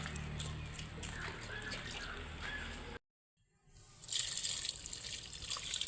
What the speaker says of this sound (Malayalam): വെള്ളം ഒഴിച്ചോളൂ